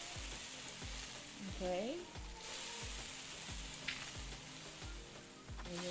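Onion frying and sizzling in a pan in the cooking game Venba, a steady close crackle with periodic stirring scrapes and a brief spoken word over it.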